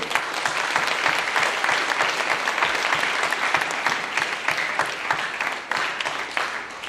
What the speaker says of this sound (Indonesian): tepuk tangan dulu untuk Bapak semua